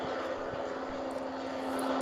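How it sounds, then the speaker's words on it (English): A medevac helicopter taking off gives a steady, droning engine hum with a constant tone, continuous and fairly prominent throughout, without any voices. "Hold on, the medevac's taking off."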